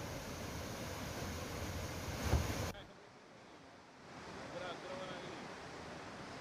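Floodwater from the swollen Kaveri river overflowing a check dam near Chikhli after heavy rain, roaring as a steady broadband rush with wind buffeting the microphone, dropping briefly quieter midway before building again.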